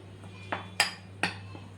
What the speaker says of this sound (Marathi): या सगळ्या मिश्रणाला जे आहे ते आपल्याला असं मिक्स करून घ्यायचे